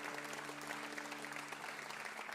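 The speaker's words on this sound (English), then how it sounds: "they deserve a big round of thanks and applause" Studio audience applauding the volunteer crew at a live acoustic music broadcast, a steady even wash of clapping throughout with a faint sustained tone underneath.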